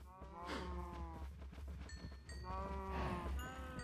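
A cow in Minecraft 1.15 gives two drawn-out moos, one early and one near the end, over a low steady background hum.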